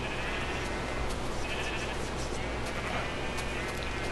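Sheep in a video game bleat now and then over a constant hiss of background noise, the calls soft and spread across a few seconds, with no talk heard.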